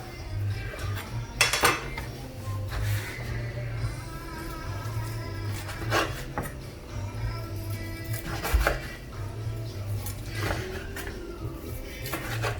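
A knife cuts bones away from tender meat cooked in an electric smoker, giving clinking and scraping against a pan or tray with soft thuds, repeated across the whole stretch over a low steady hum.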